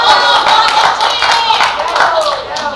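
A crowd claps steadily throughout while a voice carries on loudly over the applause.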